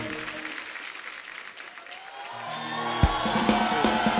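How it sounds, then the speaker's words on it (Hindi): Studio audience on a comedy talk show breaks into applause that builds and swells, with a brief shout near the end; a faint voice and music sit underneath. "जोरदार ताली।"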